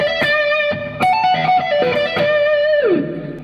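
A distorted electric guitar plays a short blues lick, sustained bent notes over quick picked phrases, ending in a downward slide; close and loud, no talking.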